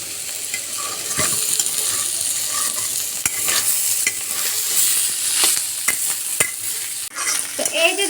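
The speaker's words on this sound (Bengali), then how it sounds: "তো এই দেখুন আমরা মাঝে মাঝে এটাকে নেড়ে চেড়ে এইভাবে উলট পালট করে দিচ্ছি" Bitter gourd and potato fry in a pan under a steady sizzle, broken by repeated scraping and clinking stirs as the pieces are turned over, close and with no talking.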